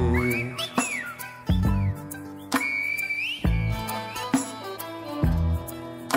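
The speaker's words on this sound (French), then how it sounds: "un guanché siffle pour s'inviter à dîner" Sliding, melodic whistles in the Silbo Gomero whistled language of La Gomera in the Canary Islands rise and fall in short phrases over a steady musical backing with regular percussive beats.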